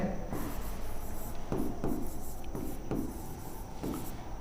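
Hand-writing on a board while solving a Class 10 real-numbers maths problem, with soft repeated scratchy strokes in short bursts over a steady background hiss, faint and close.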